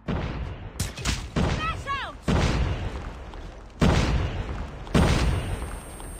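Heavy booms and blasts in Call of Duty Mobile land as several sharp, loud impacts spread across the clip, each trailing off into rumble, with a brief whistling tone early on.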